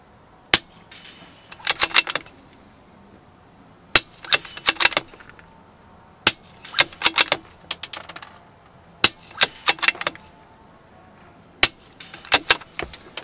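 Sharp cracks of a Savage B22 rimfire rifle fired at steel targets, each crack followed by quick clusters of ringing metallic pings, the pattern repeating five times with pauses between, and no talk.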